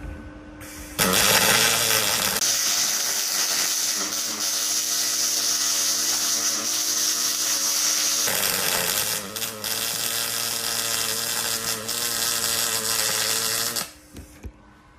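A Magnum MIG 222 welder runs an aluminium MIG weld on thin metal: a loud, steady crackling buzz starts after about a second, breaks briefly around eight seconds, then goes on until close to the end, with no speech.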